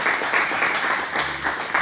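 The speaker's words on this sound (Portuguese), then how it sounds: "Você pode aplaudir a Jesus?" Church congregation applauding during a worship service, a dense, steady wash of many hands clapping close and loud with no one speaking over it.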